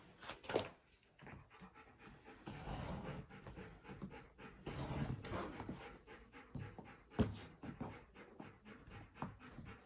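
A dog, freshly groomed and overheated, pants heavily and rhythmically close by, fast breaths in steady bursts with no talking.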